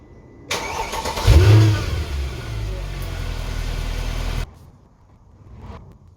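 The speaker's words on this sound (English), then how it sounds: "When you do start the engine" A Mercedes-AMG C63 engine cranks and fires, then a loud rev that settles into a steady rumbling idle for a few seconds before cutting off abruptly.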